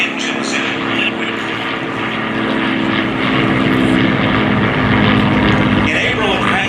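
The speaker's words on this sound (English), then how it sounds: "Directly to our left, the two Curtiss P-40 Warhawks with Allison V12 engines in liquid." Two Curtiss P-40 Warhawk fighters with liquid-cooled Allison V12 engines fly over during a WWII victory flyover, a loud steady propeller-engine drone that swells slightly over several seconds.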